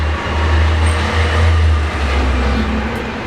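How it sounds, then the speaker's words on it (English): Heavy road traffic rumbles steadily past an open window, a constant low engine drone with trucks going by outside, fairly loud and continuous with no talk. "Just like my window's open right now and the trucks are going by."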